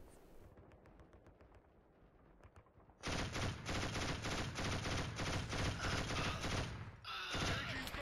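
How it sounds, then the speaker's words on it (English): Machine gun fire in the shooter game Killzone HD, running under a PS3 emulator, bursts in suddenly after a quieter stretch and continues as a loud, rapid, continuous hammering of shots, briefly breaking before resuming. "Literally the world's most inaccurate machine gun."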